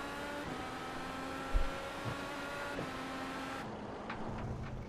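IndyCar race cars in a racing video game at the Asheville street circuit, engines droning with steady tonal whine, one car revving and shifting pitch, a couple of brief thumps, moderately loud with no talk.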